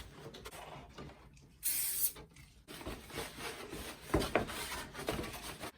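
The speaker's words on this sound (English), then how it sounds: "and then just wipe over the whole body shell" Kitchen roll soaked in degreaser rubs across a 1/8 scale Lancia Delta RC rally car body shell, making soft close scuffing strokes with a few louder wiping swipes.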